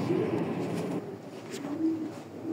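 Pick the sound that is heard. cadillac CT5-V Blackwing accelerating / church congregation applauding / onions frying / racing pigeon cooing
racing pigeon cooing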